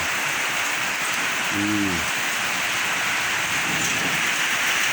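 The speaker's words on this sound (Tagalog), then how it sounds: "Ang lakas ng hangin at ulan mga kabarbers." Dense, steady rain with strong wind, a broad rushing roar, and a short low tonal hum partway through.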